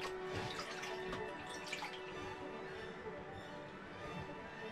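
Running shower water hisses and splashes steadily at low volume, a continuous wash of spray with faint background murmurs.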